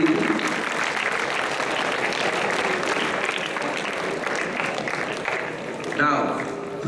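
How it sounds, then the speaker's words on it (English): An audience at a school goodwill club program gives a sustained round of applause, steady dense clapping filling the room, with a voice heard briefly near the end. "I invite you all to give a big round of applause"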